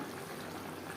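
Hilsa fish curry with potato simmers in gravy, giving a faint, steady bubbling and sizzling that runs continuously without a break.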